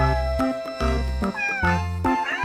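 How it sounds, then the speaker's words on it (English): A kitten meows repeatedly, five or six short, clear cries in quick succession, close and alone. "K for kitten."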